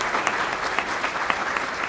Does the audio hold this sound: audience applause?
yes